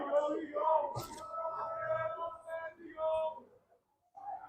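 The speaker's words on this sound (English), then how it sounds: "a couple of young kids here cheering for Dad" Young children cheer and yell for their dad at a community baseball game, several high excited voices whooping in bursts over about four seconds, fairly close, with a short pause near the end before another shout.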